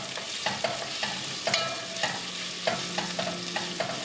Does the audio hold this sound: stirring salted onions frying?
yes